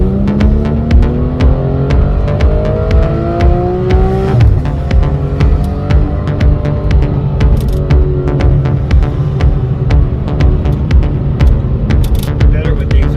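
A supercar's aftermarket exhaust revs loud and close at a car meet, with rising and falling engine tones and a throbbing drone throughout.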